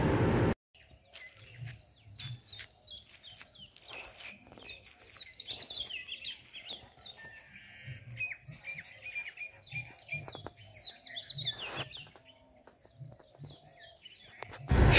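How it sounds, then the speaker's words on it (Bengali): Birds chirp and twitter in the morning near Simultala, with bright overlapping calls coming and going at moderate distance. Faint low thumps sit underneath the calls. "পাখির আওয়াজ শুনছেন তো"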